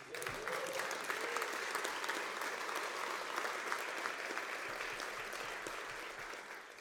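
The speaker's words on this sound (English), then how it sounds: "And this is where we clap for them again." Sustained applause from a graduation audience at an MBA ceremony in Fontainebleau, a steady dense wash of clapping that holds evenly for the whole stretch without a voice over it.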